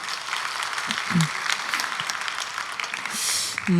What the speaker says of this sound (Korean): 옆에 박수 한번 부탁드릴게요.